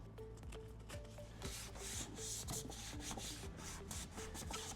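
An alcohol wipe rubs and scrubs around the charge port of a Tesla Model 3 or Model Y, giving a soft, close, continuous rubbing and wiping sound in short strokes, faint and alone with no talk.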